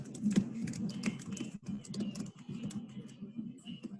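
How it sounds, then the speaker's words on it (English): Rapid, irregular clicks of a computer keyboard being typed on, continuous and fairly close, heard alone with a faint room background during a team meeting call. "Somebody's typing."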